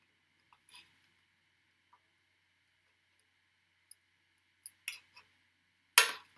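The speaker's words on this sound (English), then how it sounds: "going to start off this way and then flip the scissors over" Scissors snipping the plastic body shell of a Tamiya MAN TGS TT-01 Type E truck model, as a few faint, sparse cuts with quiet gaps between them and one louder, sharper snip near the end.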